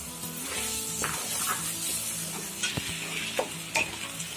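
Ground tomato purée hits fried masala for aloo matar curry and sizzles steadily while a spoon stirs, adding a few close scrapes and clicks over a continuous hiss, with no talking.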